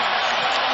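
An arena crowd at a 76ers vs Heat basketball game roars and cheers as Dwyane Wade is introduced, a dense, loud, continuous wall of noise.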